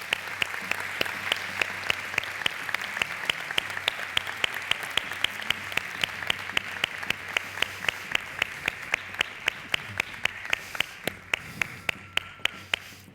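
Rhythmic, evenly spaced clapping from an audience at an outdoor traditional costume festival in Zamora, a steady beat of sharp claps held for several seconds, moderately distant.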